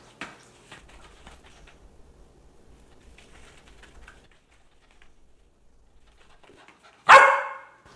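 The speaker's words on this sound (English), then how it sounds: "So barking means the cookies get turned away." A puppy gives a single loud, sharp bark nearby after a quiet stretch of faint background sounds.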